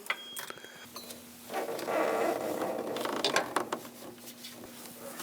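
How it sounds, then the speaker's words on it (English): A crank pulley being pulled off a Chevrolet Express engine with a puller tool: quiet ratcheting clicks and metallic scraping, rising to a grinding, creaking stretch in the middle, close by. "Remove the crank pulley."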